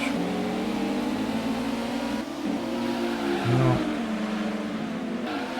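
A race car launches from the start in Gran Turismo on PS1 with a steady, buzzy engine drone and a brief rise in revs midway, accompanied by game-style engine tones.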